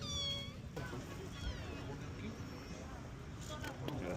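Kittens meow in a cluster of thin, rising cries at the start, followed by a few fainter calls, with background chatter and crowd noise around them.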